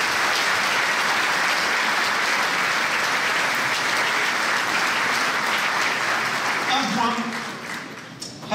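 An audience at a mayor's New Year ceremony gives sustained, warm applause. Dense clapping fills the hall for about seven seconds, then thins and fades as a voice begins.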